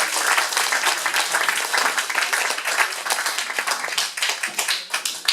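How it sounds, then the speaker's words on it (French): Sustained, dense applause from an audience honoring a prize winner at an awards ceremony, steady and close throughout. "on peut l'applaudir"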